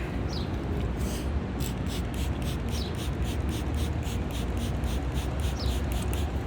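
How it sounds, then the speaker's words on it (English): A spray bottle mists water onto long natural hair in a park, a rapid run of short hissing bursts in a steady rhythm over outdoor background noise. "So just gonna spray a little bit more water"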